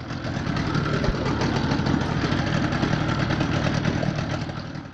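A Yamaha Enduro 30HP two-stroke outboard engine on a fishing boat runs at a steady idle, a close, continuous low rumble with a fast buzzing pulse that holds level throughout.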